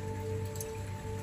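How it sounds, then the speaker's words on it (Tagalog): Light rain easing off in a bonsai garden in Dumaguete, a steady soft patter of drops on surfaces under a faint hum, quiet and continuous. "dahan-dahan ng humihinto yung ulan"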